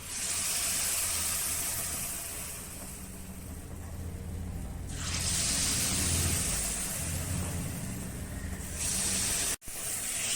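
Ghee sizzles in a hot paniyaram pan for a sweet, a steady close hiss that swells louder in two long bursts, with a brief abrupt dropout near the end.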